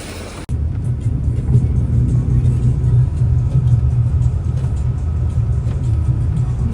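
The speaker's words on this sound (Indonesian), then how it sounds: "Akhirnya busnya sampai juga, baru sampai. Kita mau naik dulu ya." A bus engine rumbles steadily from inside the cabin while passengers ride along, a low continuous drone with road noise, starting after a brief moment of different sound.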